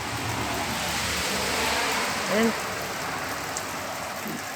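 Steady rain falling in the Minas Gerais countryside, a constant broadband hiss with a short voice breaking in briefly partway through.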